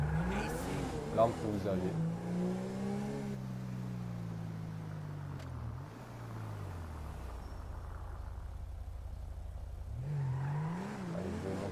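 A stolen car is driven in GTA 5 Online. The engine revs rise and fall steadily and then settle into a low, steady hum, with someone talking over it at the start.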